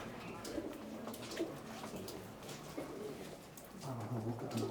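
Pigeons cooing softly inside an abandoned UK cinema, low rolling coos repeating against a hollow, noisy room ambience, with one louder run of cooing near the end.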